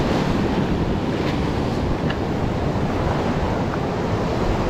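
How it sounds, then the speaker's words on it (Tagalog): Strong ocean waves crashing on a rainy shoreline, a loud, unbroken roar of surf mixed with wind buffeting the microphone. "Lakas ng alon."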